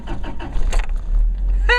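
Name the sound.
car engine starting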